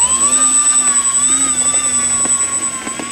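An X-fly Twin Otter 1800mm RC model plane's electric motors spool up with a steady, loud high-pitched whine and shifting tonal hum as it taxis, close by, with a few soft clicks and no talking.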